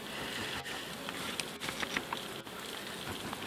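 Bees inside a local woven beehive give off a steady, dense buzzing hum throughout, close and moderately loud, with small rustling ticks over the drone.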